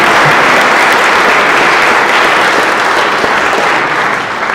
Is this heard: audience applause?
yes